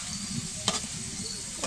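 Rice grains fry slowly in oil in a pan, giving a soft, steady sizzle broken by scraping stirs and a couple of quick clinks, fairly quiet and without speech.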